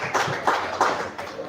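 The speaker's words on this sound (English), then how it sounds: "Amidst a round of applause" A round of applause at a pool competition final, scattered hand claps from a small crowd, close and fairly steady, lasting under two seconds.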